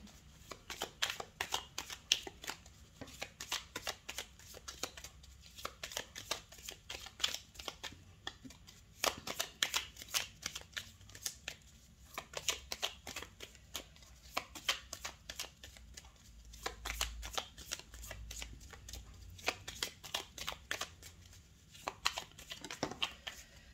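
Tarot cards being shuffled by hand at close range, with a steady run of soft riffling and slapping card sounds that continues throughout and is quiet overall.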